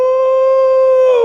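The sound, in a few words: man imitating monkey sounds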